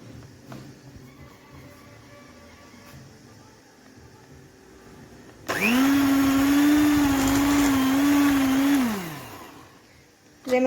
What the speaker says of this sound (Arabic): المضرب هتبقى صعبة شوية معاكي، بس انت امسكي الطبق وهدي السرعة بتاع المضرب